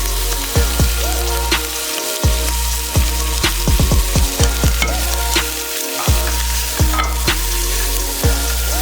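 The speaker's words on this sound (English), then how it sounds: "add potatoes and your washed rice and mix them up" Potatoes and washed rice fry together in a pot for pilau, a loud close sizzle punctuated by repeated hard scrapes and knocks of a spoon as everything is mixed.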